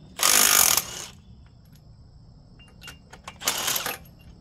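A Milwaukee impact tool rattles loudly in two short bursts, spinning out seized bolts on a 1983 Suzuki GS750 motorcycle, with faint clicks and clinks between the bursts.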